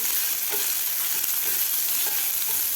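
Onion sautéing in oil with a ground spice paste for a village-style fresh pigeon pea amti, giving a steady, even sizzle with soft stirring scrapes throughout, close and moderately loud with no voices.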